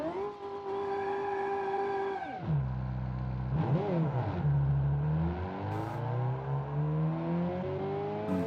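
Kiev Motors 08 car engine in the racing game BeamNG, a steady tone that drops sharply on a downshift, then revs climb smoothly again as the car accelerates over hilly terrain, loud and close with no talk.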